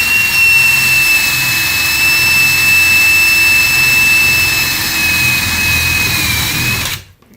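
A loud, steady high-pitched power drill whine runs continuously, then cuts off abruptly near the end.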